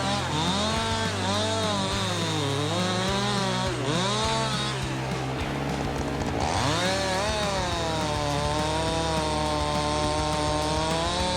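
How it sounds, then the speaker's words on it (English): A chainsaw cuts wood, its engine a loud continuous snarl that rises and falls in pitch as the chain bites and revs, close and steady throughout. "Chainsaws are heavy and generate intense vibrations."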